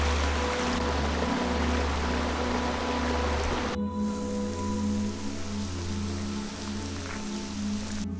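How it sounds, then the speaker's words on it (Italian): Rain falls steadily during a canyon hike, a dense, even hiss of drops with a constant low rumble underneath, close and loud throughout, with an abrupt shift in tone midway and no voices. "Non so se si vede, ma praticamente adesso piove. Ci piove addosso."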